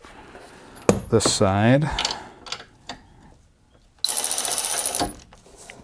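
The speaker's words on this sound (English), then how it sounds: "I'll use the ratchet here" A ratchet clicks rapidly for about a second while loosening a nut on a gas 1999 EZGO TXT golf cart, preceded by a man's speech and a few sharp metallic knocks close by.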